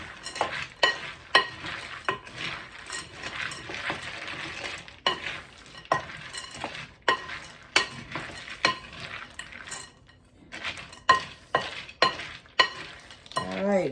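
Almonds coated in egg white and vanilla for Christmas almonds are stirred in a bowl, giving a rhythmic run of close, crisp scraping and clinking strokes with brief pauses between bursts.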